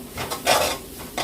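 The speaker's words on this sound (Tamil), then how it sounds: "இப்போ எல்லாத்தையுமே ஒன்றா சேர்ந்து மிக்ஸ் பண்ணி விடுவேன்" Black kavuni rice noodles being tossed together with scrambled egg in a pan, a close, scraping and rubbing stir with a louder sweep in the middle and no voices.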